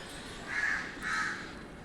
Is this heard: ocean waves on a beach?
no